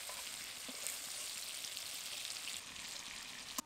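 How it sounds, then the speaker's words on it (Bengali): Shrimp frying in hot oil, a steady crackling sizzle that runs throughout at moderate level, with a sharp clink near the end and no voices. "চিংড়িগুলো ভেজে নিয়েছি, এবার এগুলোকে তুলে নেব।"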